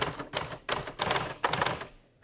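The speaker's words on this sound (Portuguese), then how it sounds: "as redações foram bem barulhentas, graças ao som da ferramenta principal, a máquina de escrever" A manual typewriter in a newsroom clacks in three quick bursts of sharp, loud keystrokes separated by brief pauses, close up and with no voices.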